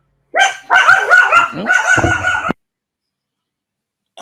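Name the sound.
dog barking at someone at the front door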